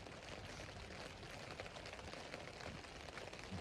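Rain patters on a truck canopy during a Yellowstone camping trip, a soft, dense, steady drumming with no voices.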